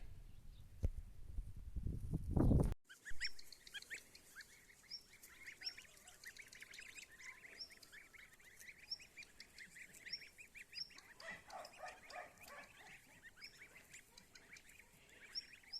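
Geese honk repeatedly at a moderate distance over outdoor ambience, following a brief loud rustle and thump at the start.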